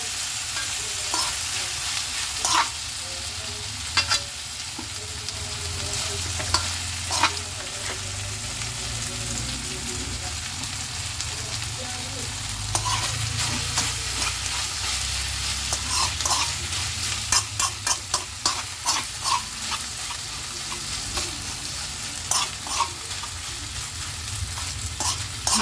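Half a kilo of ground pork being stir-fried in a pan, a continuous sizzle under repeated scraping strokes of a spatula that grow quicker and sharper toward the end, with no talking.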